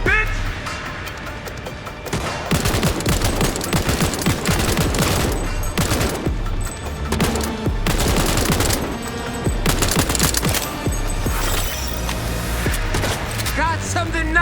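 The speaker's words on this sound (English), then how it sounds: "Shotgun!" Loud bursts of shotgun fire in the video game Cyberpunk 2077 Phantom Liberty, repeated blasts about every second or two over game noise and occasional voice.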